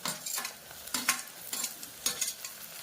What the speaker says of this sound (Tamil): இந்த தக்காளியை நம்ம அது கூட ஆட் பண்ண போகிறோம்